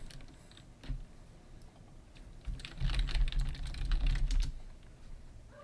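Keys tapping on a computer keyboard while a search is typed into a Windows Start menu, a quiet irregular patter of clicks that thickens into a busier burst midway through.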